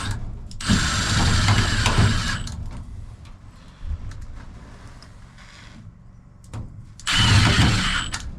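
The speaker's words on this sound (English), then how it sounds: "now I'll put the 4 screws in. And these are just self-tapping sheet metal screws" A power drill drives self-tapping sheet metal screws into a chimney pipe, with two loud, close whirring bursts of a couple of seconds each and a quieter rattle between them.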